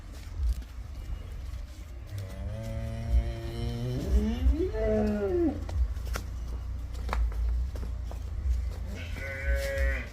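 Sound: buffalo lowing at a farm

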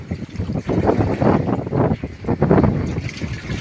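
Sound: strong wind at sea on a fishing boat

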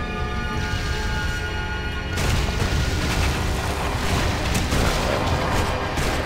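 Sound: explosive rapid fire attack in video game Torchlight II

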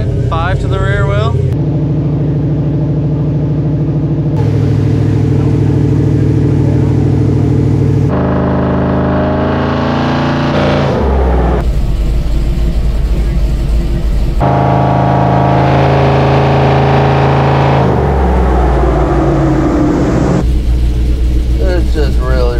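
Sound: supercharged rat rod wrecker engine revving on a dyno

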